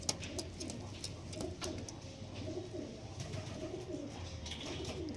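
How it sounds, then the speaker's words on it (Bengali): Pigeons coo in low, repeated rolling calls at moderate distance, a soft continuous murmur of several birds with faint higher chirps and background noise. "super super Payra"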